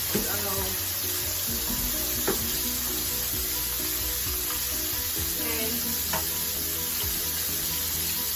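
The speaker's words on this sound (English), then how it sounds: "We're gonna let that fry up a little bit." Fish frying in a pan sizzles loudly and steadily up close, with occasional clatter from handling and a voice speaking over it.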